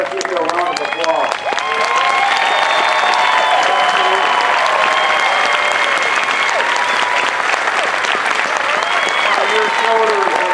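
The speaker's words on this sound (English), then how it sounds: "let us give you a round of applause" Loud, sustained applause from a large crowd honoring veterans at an Air Force basic military training parade, steady clapping with some cheering and murmuring voices throughout.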